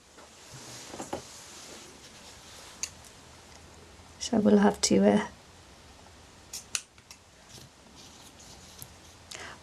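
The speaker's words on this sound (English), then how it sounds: "Too much paper on my scissors." Scissors cut through paper during a small craft project, with a few quiet snips early and then a loud, close burst of rapid cutting in the middle, under occasional soft talk.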